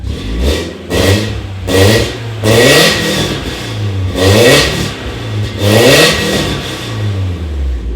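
Straight-piped BMW E36 engine revved repeatedly, about five loud raspy bursts rising and falling over a rumbling idle, recorded up close.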